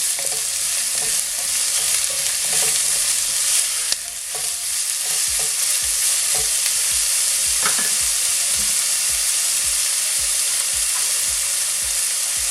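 Salmon curry with onions sizzles loudly in a pan while a spoon stirs it, the frying hiss running continuously and scraping strokes repeating steadily close by.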